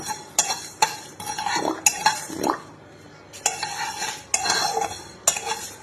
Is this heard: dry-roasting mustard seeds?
yes